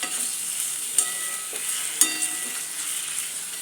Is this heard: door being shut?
no